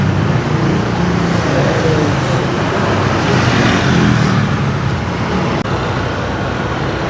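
Road traffic crawling in a jam on a road with roadworks under way, a loud continuous rumble of car, bus and truck engines close by, steady throughout with a brief sharp knock near the end.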